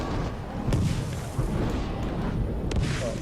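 Rumbling, booming explosions from combat in the video game Middle-earth: Shadow of War, a continuous dense barrage of low thuds with a few sharper bursts, loud and close throughout.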